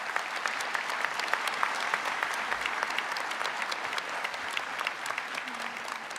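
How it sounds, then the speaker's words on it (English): Graduates and guests at a college convocation ceremony applaud, giving steady, dense clapping from a large crowd for several seconds with no talk over it. "give a round of applause to yourselves as well"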